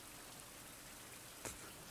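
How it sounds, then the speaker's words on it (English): Steady, dense rain falls in a tropical jungle survival game, a constant hiss of drops on surfaces with a single brief louder splash near the end and no voices. "it's probably not good for me to stand in the rain though"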